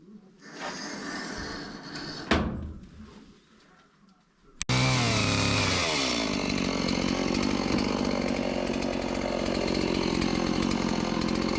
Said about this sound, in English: I had to get away from the chainsaw.